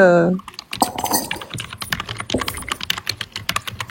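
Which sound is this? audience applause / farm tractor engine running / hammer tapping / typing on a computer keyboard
typing on a computer keyboard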